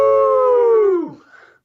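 A man imitates a wolf howl, one long sustained voiced tone that slides down and trails off at the end, loud and close.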